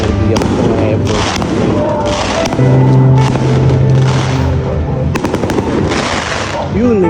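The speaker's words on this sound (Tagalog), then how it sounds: "Yun, may fireworks pa boy." Fireworks going off during a New Year celebration, a string of loud booms and crackling bursts at irregular intervals, with a brief low steady tone in the middle.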